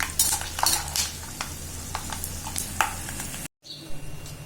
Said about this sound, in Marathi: थोडे वर खाली वर खाली लालसर होईपर्यंत तळून घ्यायचे